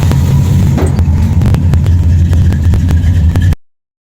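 A Chevrolet C10 truck with a freshly swapped Quadrajet carburetor, running on a test drive, giving a loud, rumbling engine idle with clattering ticks before cutting off abruptly.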